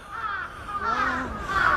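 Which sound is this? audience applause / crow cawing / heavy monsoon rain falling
crow cawing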